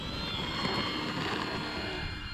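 An E-flite T28 Trojan 1.2 m RC trainer plane takes off without flaps, its electric motor giving a steady, fairly loud whine and rushing drone throughout.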